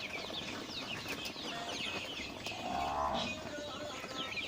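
Eight-week-old Hisex Brown laying hens in a crowded poultry house, with soft overlapping clucks and chirps and some wing rustling that stay steady throughout, rising slightly in the middle.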